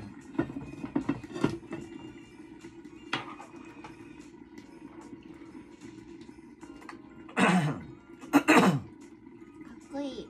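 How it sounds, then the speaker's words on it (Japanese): A man clears his throat a couple of times, short rough bursts over a quiet, humming room, with soft talk in the background. "うち男の人の咳払い好きなんだよね"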